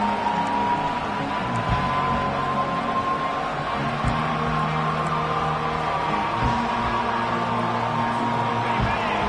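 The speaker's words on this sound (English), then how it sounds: "Decibels rising as the crowd gets behind this defense on 3rd down." A steady, dense roar from a college football stadium crowd cheering for the defense on third down, sustained and loud throughout, with a broadcast commentator talking over it.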